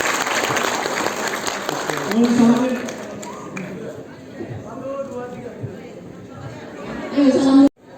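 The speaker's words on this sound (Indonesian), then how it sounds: "Oke, tepuk tangan lagi, tepuk tangan." An audience claps together, a dense burst of applause in the opening seconds that thins into crowd chatter and nearby talking voices, with another short swell of noise near the end.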